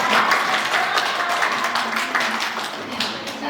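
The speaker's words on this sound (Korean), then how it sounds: "큰 박수로 맞아주세요." Audience applause at a Jirisan community gathering, a steady crowd clapping that fills the room and fades slightly toward the end.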